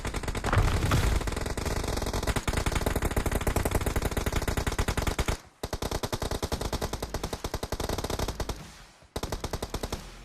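Sustained automatic gunfire from the PUBG video game rattles in rapid continuous bursts, loud and dense, broken only by two short pauses before resuming.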